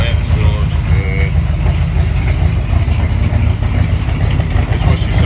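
A 1970 Buick Electra convertible's engine idles steadily and loud, heard from behind the car, a continuous low rumble running rich throughout.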